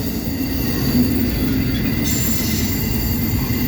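A CSX intermodal freight train led by locomotive 1776 rolls through Sykesville on a cold night, a loud, close, continuous rumble of passing cars with high wheel squeal ringing steadily above it.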